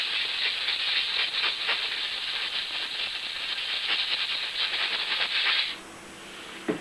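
Compressed air blasts through a model locomotive motor during cleaning, a loud steady hiss with fluttering rattle that runs for several seconds, then cuts off abruptly near the end, leaving a quiet background.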